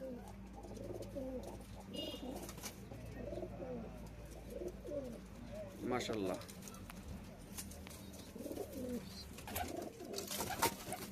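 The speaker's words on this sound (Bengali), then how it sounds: "দেখেন কবুতরগুলো" Pigeons coo in low, repeated throaty bursts nearby, with a voice speaking briefly over them.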